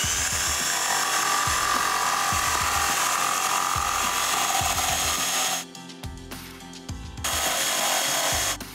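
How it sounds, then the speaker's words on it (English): Jigsaw fitted with a big-toothed universal wood blade cutting a triangle from a wooden board, a loud steady buzzing saw with rhythmic strokes that briefly drops off and resumes, no talking. "So we're using our handy dandy jigsaw again."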